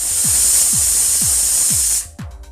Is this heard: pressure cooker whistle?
yes